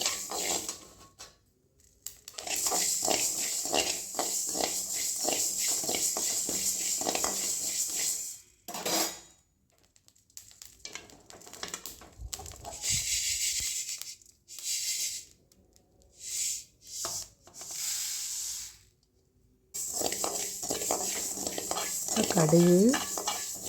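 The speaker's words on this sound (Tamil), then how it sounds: "இப்போ வெந்தயம், செவந்து வர்ற அளவுக்கு வறுத்துக்கலாம்." Fenugreek seeds dry roasting in a pan for sambar powder, scraped and stirred with a utensil in rapid, sustained bursts of rattling and light crackle, broken by short pauses.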